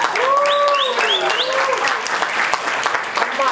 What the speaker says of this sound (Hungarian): Nagy tapsot kére!